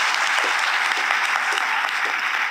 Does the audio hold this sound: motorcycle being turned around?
no